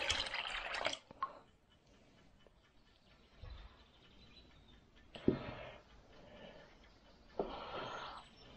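Warm milky liquid poured from a pot while making homemade Boursin-style cheese, with splashy pouring bursts at the start and again later, separated by quieter dripping and trickling; close and moderately loud, no talking.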